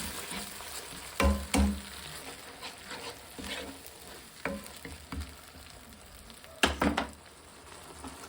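Freshly ground masala fries in a pan for Mangalore-style prawn ghee roast, giving a low, steady sizzle broken by several louder clunks and scrapes of stirring.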